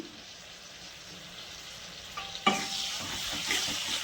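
Yogurt goes into a hot pan for Bengali doi katla fish curry, a sudden hiss of sizzling starting partway through and carrying on steadily with light stirring scrapes, no talking.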